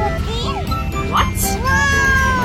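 A cat meows a few times on a busy street outside a balloon stall, its thin rising calls heard under steady traffic rumble and nearby chatter.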